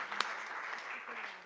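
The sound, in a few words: audience applause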